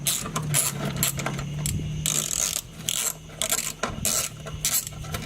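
A wrench ratchets the last bolt off an old Dodge Challenger abandoned for 35 years, giving rapid metallic clicking and clatter in short bursts at close range.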